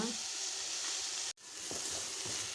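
Tomatoes with a little poppy seed fry in a pan, giving a steady close sizzle that breaks off for a moment and then comes back, with a few soft stirring scrapes near the end.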